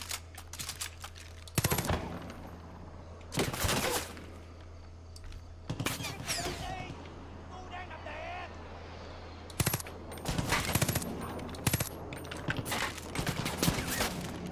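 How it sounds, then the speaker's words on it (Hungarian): Bursts of gunfire from the video game Far Cry 5, Hours of Darkness DLC, loud volleys at irregular intervals of a few seconds over a low steady background hum. "A lövés egyébként rohadt jól meg van csinálni"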